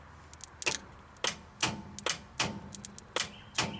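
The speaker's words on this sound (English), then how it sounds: "we're going to test the lower solenoid" The lower overdrive solenoid of a 1951 Studebaker clicks repeatedly at a quick, irregular pace, sharp mechanical snaps close by against a quiet background.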